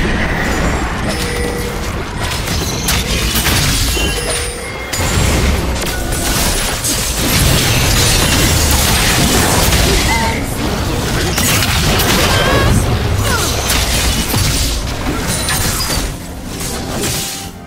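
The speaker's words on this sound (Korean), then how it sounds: "파랑 팀의 포탑이 파괴되었습니다." A turret destroyed in League of Legends bursts apart with heavy booming and crashing, set within a loud, constant wash of battle effects and clashing game sounds across the whole stretch.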